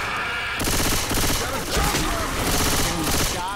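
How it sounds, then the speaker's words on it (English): Rapid gunfire from the video game Left 4 Dead 2 crackles in dense, overlapping bursts, loud and continuous, with a voice briefly calling out amid the shots. "Can we stop shooting each other?"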